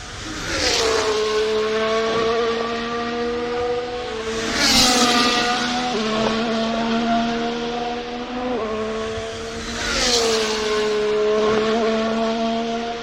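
Formula 1 race cars screaming past at high revs, each passing car a loud rising and falling engine whine with clear gear-shift drops, several passes in a row with no talk.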